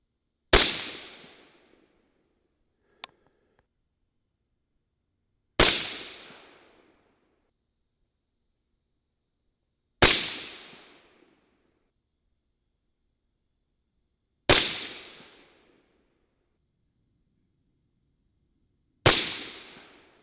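Five rifle shots with 55-grain Bob's full-metal-jacket bullets over 24.4 grains of IMR 3031 powder ring out singly about four and a half seconds apart, each a sharp crack with a short decaying tail, plus one faint click between the first two.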